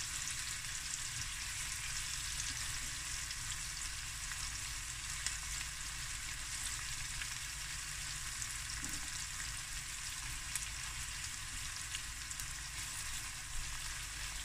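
Lime pieces tucked into pockets among rice ingredients fry in a pan, making a soft, even, continuous sizzle with no talking.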